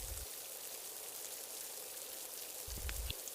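Steady rain pours down on a stormy night in a village, a constant hissing wash of drops with a few low thuds near the start and end.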